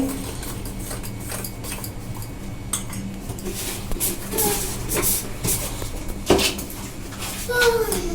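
Utensil stirring and clinking against a bowl while chicken bread roll batter, made with arrowroot and water, is mixed, a steady close scraping with scattered sharper taps and faint background noise.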